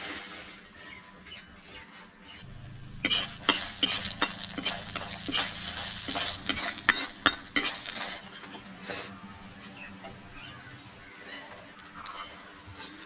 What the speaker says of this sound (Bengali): তেলের মধ্যে দিয়ে দিলাম গোটা জিরে কারি পাতা হালকা করে ভেজে নেব